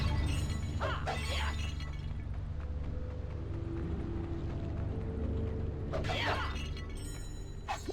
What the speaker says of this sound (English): Get the pottery shattering effect here.